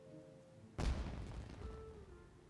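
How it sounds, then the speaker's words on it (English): A smoke bomb in Genshin Impact sets off a sudden loud boom like fireworks, followed by a rumbling, crackling tail that fades over a couple of seconds. "It sounded like fireworks."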